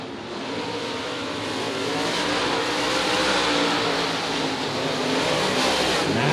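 UMP open-wheel modified race cars roar around the track at All Tech Raceway, a loud, dense and continuous engine drone that swells slightly as the pack passes close by.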